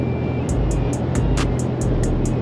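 Steady road rumble from a truck driving along a highway, heard from inside the cab, with a continuous low engine and tyre drone and a series of soft regular ticks repeating over it.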